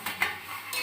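A lid comes off a cooking pot of potatoes with a quick metallic clink and a soft scrape, heard close and brief.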